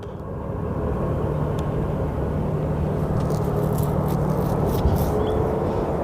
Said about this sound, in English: Sounds like a couple of Southwest planes starting up